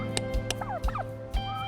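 Turkeys in a workshop gobble loudly and close by, several quick rattling bursts over steady low machine hum, with no one speaking.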